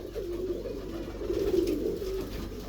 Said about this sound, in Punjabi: ਹੁਣ ਇਹ ਕਬੂਤਰ ਵੀ ਉੜਿਆ ਹੋਇਆ ਕਬੂਤਰ ਆ ਜੀ।